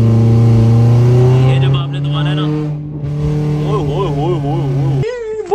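Car engine revving up after a paddle-shift downshift, a loud, close roar that climbs and then wavers, with someone speaking over it toward the end.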